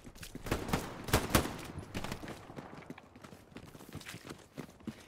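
Machine gun fire rattles through a multiplayer war video game, with dense broadband bursts peaking early on, then thinner scattered shots and impacts carrying on at moderate loudness to the end.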